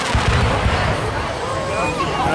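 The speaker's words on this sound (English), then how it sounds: "we're just watching the 4th of July fireworks" Fourth of July fireworks bursting outdoors, a loud continuous roar of booming and crackling explosions with a few whistling streaks, heard from nearby.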